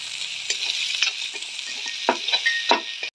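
Ginger paste and onion fry together for chicken curry, a close, even sizzle broken by several sharper scraping stirs toward the end, with no talk.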